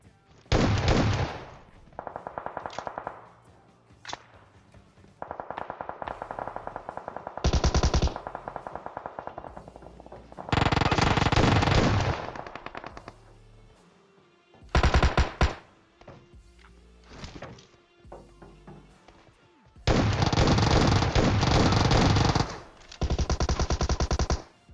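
S12K shotgun fire in PUBG, repeated bursts of loud booming shots in clusters separated by short pauses, with rapid follow-up blasts and quieter gaps between volleys.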